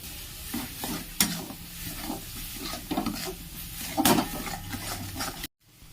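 A spoon stirs sweetened chutney in a pan as sugar melts in, rhythmic scraping strokes over a light sizzle, close and steady, ending in sudden silence.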